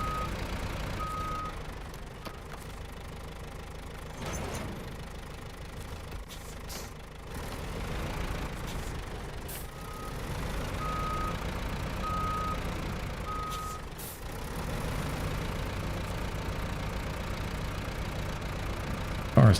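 Truck reversing beeps in the SnowRunner game, a repeated electronic beep pattern over a medium idling engine rumble, several spaced bursts of beeping across the stretch, moderately loud with no talking.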